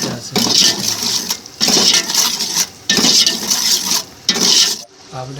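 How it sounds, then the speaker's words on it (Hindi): Spoon scraping and clattering against a metal cooking pot as food is stirred and mixed, in loud bursts of a second or so with brief pauses between, close up, with no talking. "अब इसको अच्छी तरह से मिक्स करेंगे।"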